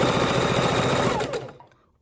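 Sewing machine running steadily as it stitches quilt fabric, a fast, even mechanical whir close up that carries on for about a second and a half before stopping abruptly.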